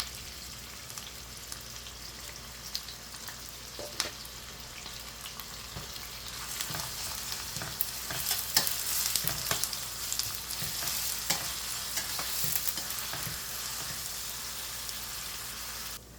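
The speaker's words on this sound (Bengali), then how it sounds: "আমি দিয়ে দিলাম পেঁয়াজগুলো, এটা আমি এখন ভেজে নেব" Chopped onions fry in hot oil until crisp for a broiler chicken bhuna, giving a steady, close sizzle that swells louder partway through, with occasional stirring clicks and spatters and no talk.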